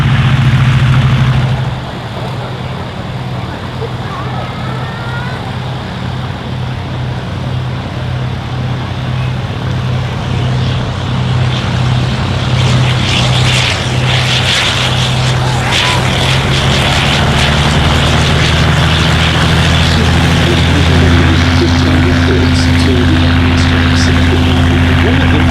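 Privately owned propeller aircraft based at Old Warden, running during the Shuttleworth Festival of Flight airshow, a steady droning engine hum that holds throughout and grows slightly stronger toward the end, with outdoor crowd noise around it.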